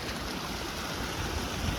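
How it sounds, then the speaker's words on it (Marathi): Steady rushing of irrigation water running along a shallow farm field channel toward a lower plot, continuous and fairly close, with a low gurgling undertone and no voices. "खाली पाणी जात आहे आता खालच्या प्लॉटमध्ये पाणी चाललं आहे"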